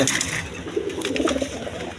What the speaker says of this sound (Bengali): বন্ধুগণ এখানে এক পেয়ার গিরিবাস কবুতর আছে